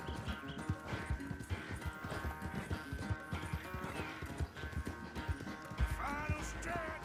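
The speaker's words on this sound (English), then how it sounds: "O puro sangueiro. Melhor cavalo do jogo" A thoroughbred horse in Red Dead Redemption 2 pounds its hooves at a quick, rhythmic pace, loud and close, with game music behind it and a brief burst of noise near the end.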